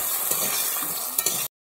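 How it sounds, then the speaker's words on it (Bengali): Potato pieces fry in hot oil for a Bengali hilsa-head and cabbage curry, giving a dense continuous sizzle with a couple of soft stirring knocks before it cuts off abruptly. "আলুটাকে আমি ভালোভাবে ভেজে নিচ্ছি।"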